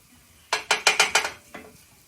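Pasta tongs mixing pasta in a pot, a quick run of five bright metallic clacks followed by a softer sixth after a short pause, close and crisp with nothing else over them.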